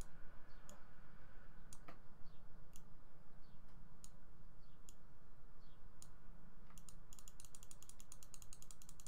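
A computer mouse clicks repeatedly while working in Clickteam Fusion 2.5, with sharp, irregularly spaced clicks that turn into a rapid burst near the end, heard over a steady low background hum.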